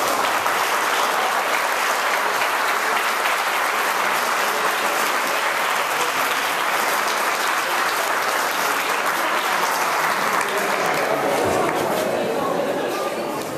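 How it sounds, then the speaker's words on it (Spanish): A dinner gala crowd in Tijuana applauds the performers on stage, a loud, dense wash of clapping that carries on steadily, with scattered cheers and voices mixed in, easing slightly near the end. "Un fuerte el aplauso para ellos, para ustedes."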